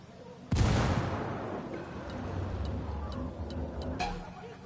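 Grenade blast in a first-person shooter video game: one sudden loud boom at about half a second, then a long rumbling decay with scattered faint ticks.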